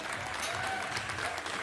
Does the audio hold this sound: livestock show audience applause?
yes